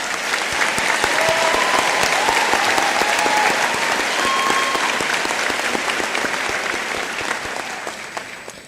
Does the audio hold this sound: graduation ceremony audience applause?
yes